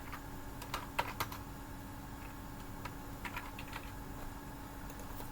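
Computer keyboard typing while code is entered, a run of quick clicks with a few sharper keystrokes near the start, close and fairly quiet, with no talking.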